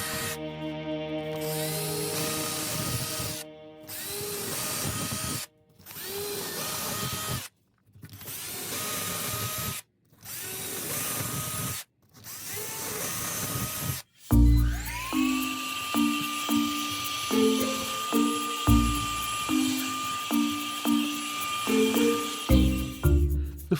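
A drill fitted with a 6mm bit bores through foam and a plywood baseboard, running in several loud bursts separated by short pauses, followed by a steadier whining stretch with rhythmic pulsing.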